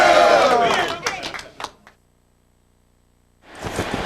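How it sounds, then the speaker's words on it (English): A sellout, standing-room-only football crowd at the Trans World Dome roars loudly, fades to near silence, then the cheering swells back up. "It's a standing room only sellout crowd on hand."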